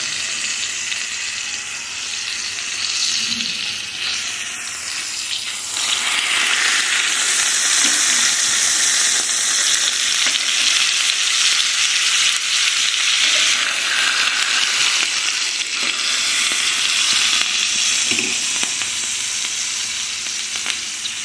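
Chicken fries on a hot tawa pan with a loud, continuous sizzle that swells slightly as the pieces are turned, alongside occasional soft scraping.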